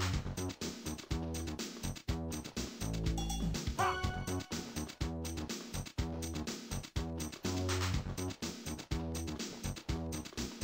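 Cartoonish dog barks and yips from the video game Rent-A-Hero No. 1, repeated in rapid bursts over a loud, busy game music track that runs continuously throughout.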